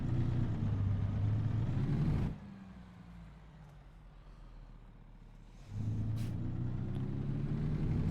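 A heavy truck in American Truck Simulator rolls downhill on a Colorado road, its loud engine and road rumble steady, then dropping to a quieter coast for a few seconds before surging back to full drone.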